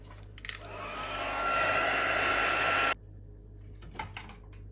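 A hair dryer blows over a painted Valentine's card, rising to a steady loud whoosh for about two seconds and then cutting off abruptly, leaving faint handling clicks after.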